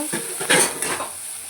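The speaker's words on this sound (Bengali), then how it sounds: "পেঁয়াজটাকে আমি 1 মিনিট ভালো করে ভেজে নেব" Onions frying in a pan with bay leaf and cumin, a steady close sizzle under a few scraping stirs with a spoon, one louder clatter midway.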